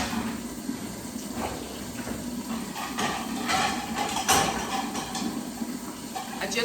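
Tap water runs steadily into a home kitchen sink while dishes are being washed, with faint clinks of plates and a soft ongoing splash at moderate distance.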